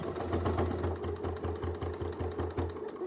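A sewing machine doing free-motion quilting, stitching an arc along a quilt seam, runs at a rapid, steady whir with a regular pulsing beat, close and alone with no talk.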